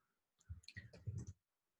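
Quick run of light keyboard key clicks, close and fairly soft, in a short burst of several strokes before falling silent.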